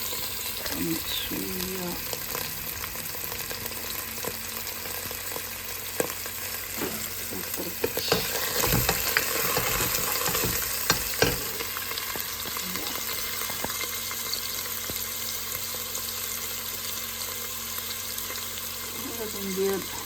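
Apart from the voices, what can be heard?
onion and garlic frying in oil with cumin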